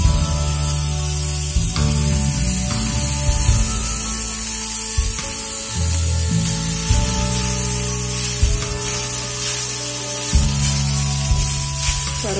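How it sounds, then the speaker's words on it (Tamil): Poongar rice flakes go into a hot pan for millet upma, giving a steady, close sizzling hiss with occasional stirring scrapes throughout. "இப்போ இந்த அவலை ஆட் பண்றோம்."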